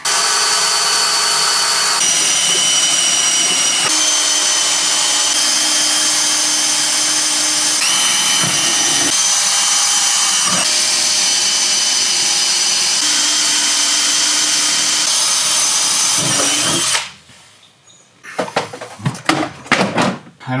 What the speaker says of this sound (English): Remove the dash, and then we'll start drilling all these out.